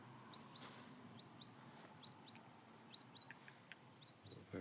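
Small birds chirp in repeated paired trills on a summer morning at Bargrennan in the Scottish countryside, faint and somewhat distant over a soft background hush, with no talking.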